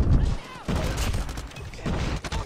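Loud bursts of shotgun fire ring out in the mobile shooter game Call of Duty Mobile, coming in several heavy blasts over about two seconds, with a voice talking alongside.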